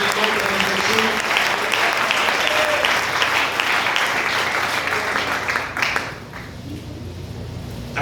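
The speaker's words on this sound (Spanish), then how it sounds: "Ese fuerte aplauso en el nombre de Jesús." Church congregation clapping loudly during a Spanish-language Sunday service, a sustained burst of applause with some voices mixed in, tapering off sharply near the end into quieter room sound.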